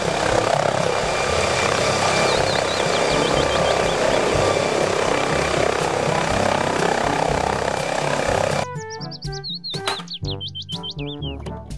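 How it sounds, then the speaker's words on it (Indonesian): A helicopter's steady, loud rotor and engine drone runs for most of the span, then cuts off abruptly and gives way to bright, chirping bird-like tones. "Helikopter."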